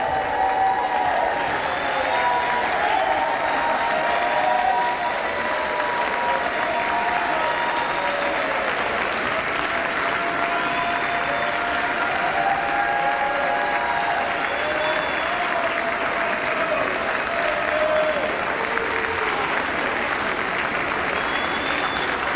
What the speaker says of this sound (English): So the reason they're clapping for him is he just had surgery